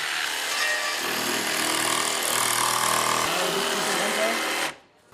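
Fabric being sawn through while building a bicycle, a loud, continuous grinding buzz that runs steadily for several seconds and then cuts off abruptly.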